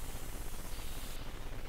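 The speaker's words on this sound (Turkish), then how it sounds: "Buna sprey yapabiliyorum." Graffiti being spray painted in a video game, a steady hissing aerosol spray that runs unbroken and fairly loud for the whole moment, alone with no voices.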